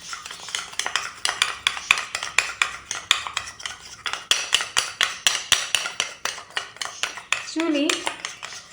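A spoon stirs a sugar face pack in a bowl and clinks rapidly and repeatedly against the sides in a fast rhythm, close and clear, with a brief murmur near the end.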